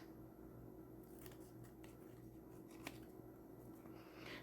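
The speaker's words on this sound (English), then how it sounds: "I'm going to cut off the excess doily" Scissors snip through a crocheted doily to trim off the excess edge, giving several soft, close cuts and crisp clicks over a low steady hum, with no talking.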